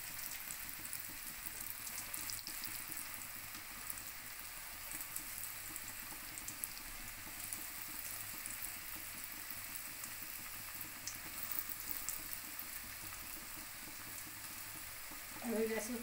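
Potato-free french fries sizzle steadily in lightly heated oil in a wok, a continuous soft frying hiss with a faint bubbling bed, holding evenly throughout with a small louder burst near the end.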